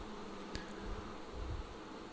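Honey bees in an open long Langstroth horizontal hive hum in a steady, close, soft drone, with one brief bee zipping past and no voices.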